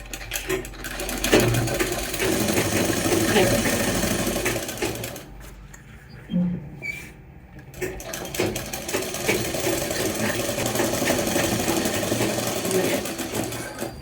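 A sewing machine runs steadily while stitching the lining along the edge of a kurta, with a rapid mechanical clatter that pauses briefly midway and then resumes.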